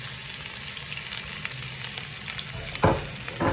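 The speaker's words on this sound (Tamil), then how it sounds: "இப்போ ஒரு 1/2 கரண்டி பெருஞ்சீரகம் போட்டுட்டு வெங்காயம் பச்சை மிளகாய் போடுவோம்." Fennel seeds, sliced onion and green chili frying in hot sesame oil, a steady close sizzle with crackling, then a sharp louder burst of spattering near the end as more goes into the pan, no talking.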